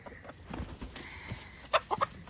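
Chickens on a small farm give a few sharp clucks near the end, close and clear over faint background rustling.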